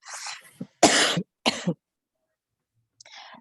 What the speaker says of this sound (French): je vais beaucoup tousser